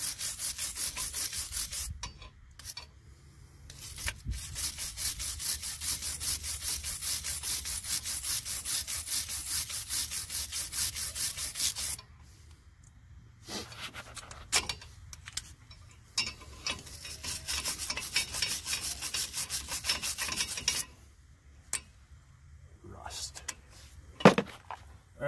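Scrubbing at the brake hose mating surface while doing the rear brakes on a 2004 Silverado 2500: close, rhythmic rubbing strokes in long bursts, broken by short pauses and a few sharp knocks.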